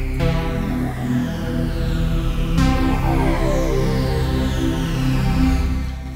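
An Omnisphere synth patch runs through a tube limiter with the gain cranked, giving a dense, thick, saturated sustained tone with a rich stack of overtones and a fresh swell partway through.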